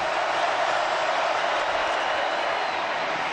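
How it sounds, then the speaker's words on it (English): Football stadium crowd during a Georgia Bulldogs vs Missouri Tigers college game, a steady, dense roar of cheering that holds loud and unbroken for the whole stretch. "Crowd is up again."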